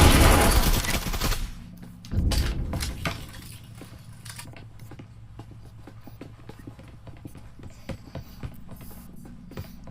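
Gunfire and grenade blasts in the online VR shooter Breachers, with a loud burst of dense shots and explosions at the start, another heavy blast about two seconds in, then scattered quieter shots and clatter through the rest.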